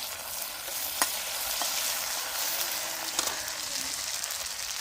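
Garlic and green chili fry in hot oil, a steady broadband sizzle with a few sharp spatter pops and stirring scrapes, close and continuous with no talk.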